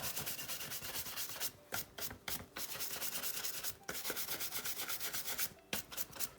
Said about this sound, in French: Le dernier petit coup de main, une brosse douce.